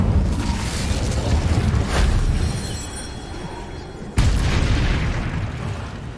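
An Incendio fire spell cast in the video game Hogwarts Legacy: a rushing, roaring burst of flame over game noise, followed by a sudden sharp boom that decays into a rumbling tail.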